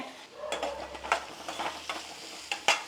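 Vegetables go into a cooking pot for a Kannada vegetable bassaru, with soft sizzling, stirring scrapes and a few sharp clinks of a utensil against the pot, fairly quiet and close.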